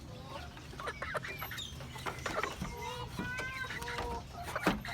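A flock of Maclean crossed with Sweater yellow-legged breeding chickens cluck and chatter nearby in overlapping, uneven calls over a steady background of farmyard noise.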